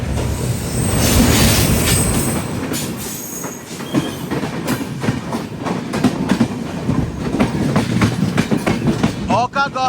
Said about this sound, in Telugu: ఇంకో క్రాస్ ఓవర్. హైరేజ్ లోకోమోటివ్ వస్తుంది.